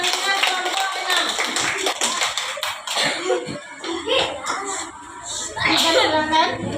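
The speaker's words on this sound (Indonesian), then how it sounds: "boleh tepuk tangan untuk kelompok 2" A classroom claps for a student group after a presentation, brief scattered clapping mixed with children's chatter and room noise, with voices talking throughout.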